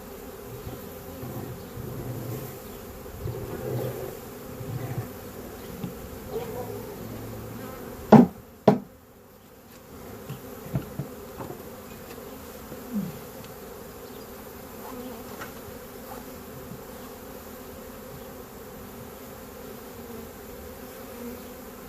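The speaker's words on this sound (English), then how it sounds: "Decent amount of bees in this box" A swarm of bees buzzes steadily inside a box, a low, faint hum that carries on throughout. A couple of sharp knocks land near the middle.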